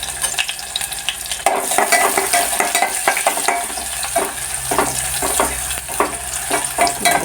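Chopped onion sizzles in hot oil with bay leaf in a pan, stirred with steady scraping strokes that rise from a softer start into regular, close utensil scrapes over a continuous fry.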